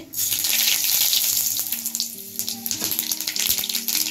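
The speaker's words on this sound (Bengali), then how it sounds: "একটু সর্ষের তেল দিয়ে দিয়েছি দিয়ে দিচ্ছি দুটো শুকনো লঙ্কা" Mustard seeds and two dried red chillies hit hot mustard oil in a wok for a tempering, giving a steady close hissing sizzle with faint pops and clinks throughout, no voices.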